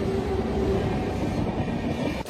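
A train passes the Shamsi railway level crossing, a loud, steady rolling rumble with a faint tonal hum running through it, heard close by and with no talk over it.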